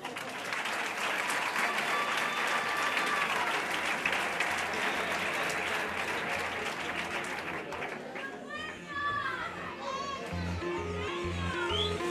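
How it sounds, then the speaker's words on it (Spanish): Applause and crowd chatter at a 2009 carnival gala in Bollullos during a swimsuit parade, continuous clapping with children's voices mixed in, then a gap before a voice over the crowd. "Un aplauso."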